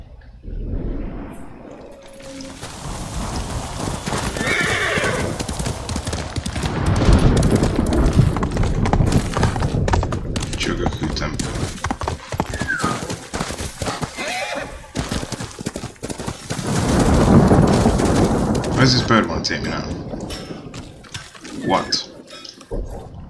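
Kage, a horse in the game Ghost of Tsushima, gallops with rapid rhythmic hoofbeats that swell and fade twice, mixed with whinnies and snorts, under occasional game effects and a player's voice.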